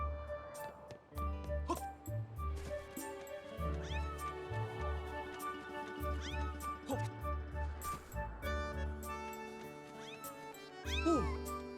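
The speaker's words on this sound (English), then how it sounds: "Cute little cat" A small cat creature in The Legend of Zelda: Skyward Sword HD gives several short meows over a looping in-game music track, the calls clear and near amid bright melodic tones.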